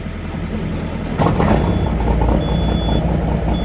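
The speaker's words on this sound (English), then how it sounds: "I believe the truck's going to start." A truck engine cranks and catches on a 20-degree day, a loud low rumble rising abruptly partway through and then settling into a steady idle, close by.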